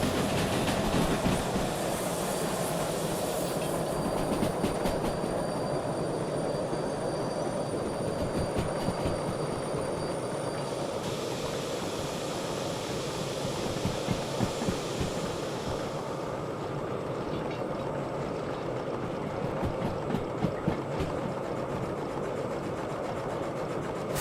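Train rolling at speed in the Derail Valley game, a steady loud rumble of wheels and rail noise with wind-like hiss throughout, no voices.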